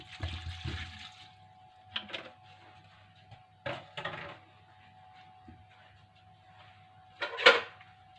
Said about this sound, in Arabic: وغادي نزيد هاد السيترو ديال الماء، وغادي نزيد تقريبا كاس اخر